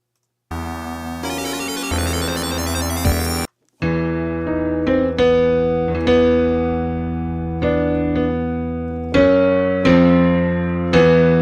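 Video game final boss music played back loud, opening with a dense buzzy electronic burst, a short gap, then a run of sharp struck chords and notes in a steady driving rhythm, no voices.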